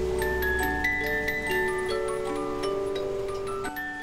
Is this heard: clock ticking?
yes